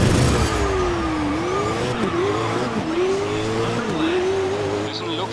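Race cars in the video game Grid roar at the start, engine notes sweeping up and down with rising shifts and tire squeal, loud and continuous, with a commentator talking over them.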